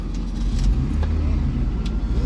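A car engine that has just been started after a battery jump idles with a heavy, steady low rumble close by, with small clicks and rattles over it.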